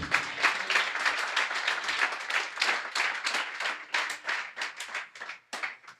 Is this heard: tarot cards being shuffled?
no